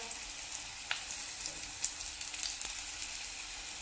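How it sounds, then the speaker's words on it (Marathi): Stuffed bitter gourd roasting in oil in a pan over a low flame gives a quiet, steady sizzle with a few faint crackles and pops, heard alone at close range. "आता इथे हे मी सेम दोन मिनटं भाजून घेणार आहे"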